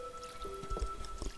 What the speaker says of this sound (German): Wir gießen erstmal unseren Garten.